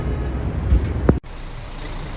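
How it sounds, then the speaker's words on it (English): Busy Hanoi street with buses and traffic: a steady, loud, dense roar of engines and road noise that drops away abruptly partway through. "The sounds of buses, station announcements, and people calling out to one another never seemed to stop."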